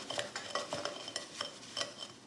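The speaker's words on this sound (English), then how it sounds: "So we're just going to cream this together." Sugar and fat being creamed by hand for chocolate chip cookie dough, a quick rhythmic run of soft scraping strokes from a spoon against a bowl, close and fairly quiet.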